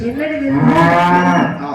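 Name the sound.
cow mooing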